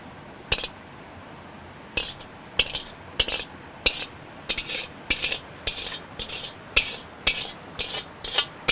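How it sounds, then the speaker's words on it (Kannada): Boiled chicken liver and gizzard frying in a pan, with a spatula striking and scraping the metal in quick, irregular clinks and bursts, fairly close and with no talk. "ಇವಾಗ ಇದನ್ನು ಹಾಕ್ಕೊಂಡು ಇನ್ನೊಂದು ಸರಿ ಫ್ರೈ ಮಾಡ್ಕೊತೀನಿ ನೋಡಿ."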